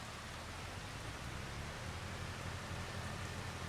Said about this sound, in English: let's see how long this rain is going to go on anyway.